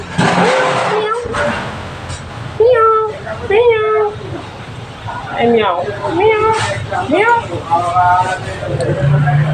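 A cat meows repeatedly in rising, drawn-out calls, close by, over a background of people talking and an engine rumbling.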